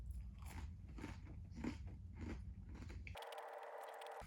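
A Nature Valley granola bar bitten and chewed up close, with loud, repeated dry crunches in a steady chewing rhythm, followed by a short stretch of flat electronic hum.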